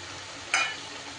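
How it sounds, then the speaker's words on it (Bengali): Fried paneer pieces tipped into a pan of spiced vegetables, giving a short burst of sizzling and scraping over a quiet background hiss. "এইবার আমি এই পর্যায়ে দিয়ে দিচ্ছি ভেজে রাখা পনিরগুলো"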